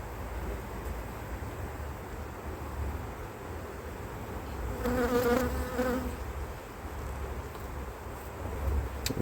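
Honey bees in an opened beehive during an autumn hive inspection make a dense, steady buzzing drone, with a louder bee passing close by midway.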